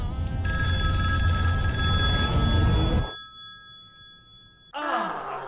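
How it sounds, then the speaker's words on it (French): A telephone rings loudly for about three seconds with a sustained electronic bell tone, stops into near silence, then another sound cuts in sharply near the end. "le téléphone va sonner dans 3, 2, 1"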